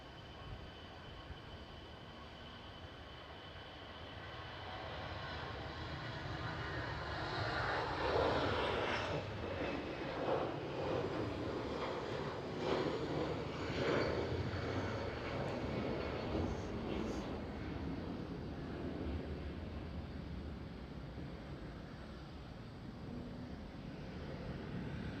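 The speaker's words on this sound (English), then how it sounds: "we're gonna go for the departure of an EasyJet right here on the runway 24" An EasyJet airliner departing from runway 24 at Schiphol, Amsterdam, its jet roar swelling from a distant rumble to a loud sustained peak, then slowly fading.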